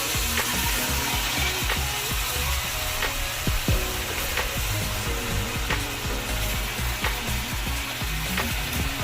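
Chicken pieces browning in a pan for stew give a steady, loud sizzle and frying crackle that runs throughout, with occasional soft stirring clicks and no talking.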